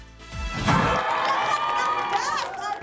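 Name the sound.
audience applause and cheering, standing ovation at film premiere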